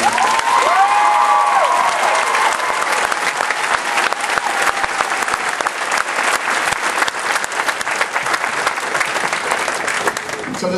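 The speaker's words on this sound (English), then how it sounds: "So how about a round of applause for Division 9?" A large crowd of family and friends applauds at a navy recruit graduation ceremony, a long dense roll of clapping with scattered cheers, loud and sustained throughout, with a voice briefly audible at the start.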